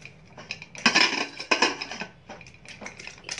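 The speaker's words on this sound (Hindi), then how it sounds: "ये कुकर बंद करके" Metallic clanks and scrapes as the lid of a pressure cooker is fitted and locked shut while cooking khichdi, with a few louder knocks amid lighter rattling, close up and without speech.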